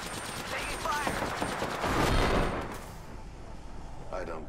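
Rapid video game gunfire crackles through a busy firefight, with bursts layered over shouted team voices and radio chatter throughout.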